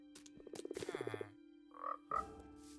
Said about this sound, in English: Okay, there are frogs as well.